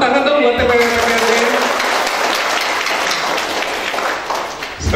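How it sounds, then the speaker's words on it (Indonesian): Audience applause at a company's fifth anniversary celebration, a loud burst of clapping that starts at once and holds steady before tapering slightly at the end. "Tepuk tangan dong buat PTRD."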